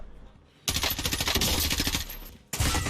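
Sustained automatic gunfire in Call of Duty: Warzone, a dense, loud burst of rapid shots lasting about two seconds, then a short pause before firing resumes at full intensity.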